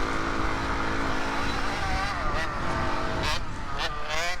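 A Yamaha TTR230 dirt bike races at the 6 Hours of Glen Helen. Its engine drones loud and close without a break, the pitch rising and falling with the throttle, and a few sharp surges of revving come near the end.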